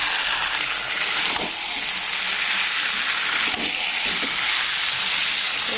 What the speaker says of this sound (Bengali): এবার ভালো করে কষতে নেব